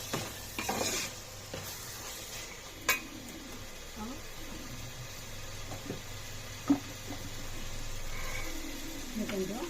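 Biryani mixture stirred in a pan over high heat: a spoon scrapes and clinks against the metal now and then over a steady oily sizzle, with a voice speaking at times.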